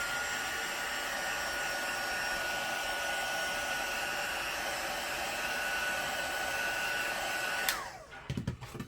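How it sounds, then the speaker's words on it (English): A close, steady high-pitched blowing whir of a heat gun running continuously, then abruptly switching off and winding down, followed by a few handling knocks. "So one more time, heat gun."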